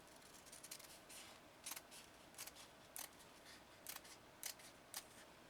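Scissors snip in a series of crisp, scratchy cuts through stiff material on a first-edition Singer 404 sewing machine project, spaced irregularly over quiet background noise, close and fairly faint.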